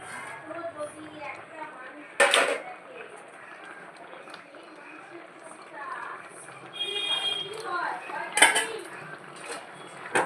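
A metal spoon scrapes and clinks in a pot while navratan curry with milk and paneer cooks, with sharp clanks as a lid goes on; someone talks throughout over the soft kitchen clatter.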